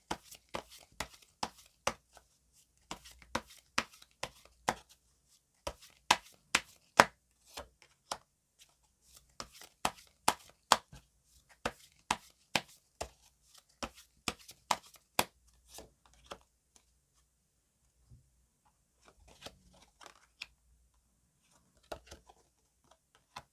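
Tarot cards being shuffled and drawn during a love reading, heard as crisp, close card snaps and flicks in uneven bursts that thin out toward the end, with no talking.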